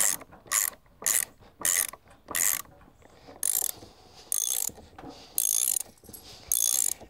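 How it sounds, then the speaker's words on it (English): A ratchet wrench tightens a bolt into a wooden garden stool in short bursts of crisp, rapid clicking, about nine close strokes separated by brief pauses. "We want to fit the parts together tightly, so we need to use a ratchet."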